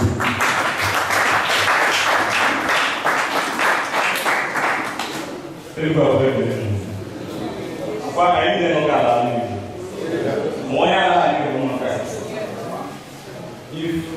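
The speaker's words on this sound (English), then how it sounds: "A round of applause for his." An audience at a town union event against drug abuse claps in a burst of applause for a few seconds, then it fades as speech takes over in a hall.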